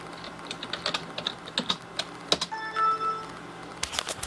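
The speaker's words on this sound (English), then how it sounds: "I'm typing my administrator password." Keystrokes on a computer keyboard while entering an administrator password on a small form factor PC running Windows Server 2008 R2, with irregular close clicks and a short electronic tone partway through.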